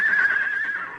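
A single horse whinnies loudly for about a second, a high quavering neigh that fades at the end.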